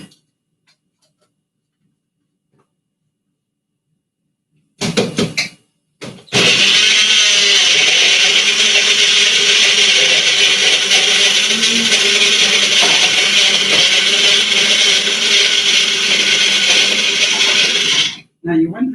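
A hand-operated manual chopper mincing hard carrots, starting after a silent stretch with a few short bursts, then a loud, continuous rattling, clattering grind that runs for about twelve seconds before stopping abruptly.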